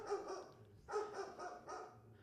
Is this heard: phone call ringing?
no